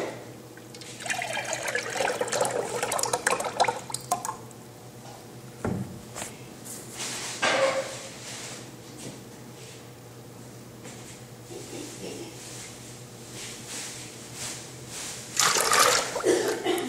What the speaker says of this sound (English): So now I'm going to pour the copper red glaze.